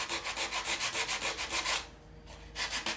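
Balsa wood underbelly of a model aircraft rubbed down with quick, rhythmic back-and-forth sanding strokes, close and clear, then a short pause before a few more strokes.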